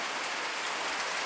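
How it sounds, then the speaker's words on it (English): Steady rain falling outdoors, a dense even hiss of drops on surfaces, soft and continuous with no voices. "You guys, what a blessing. So needed this rain."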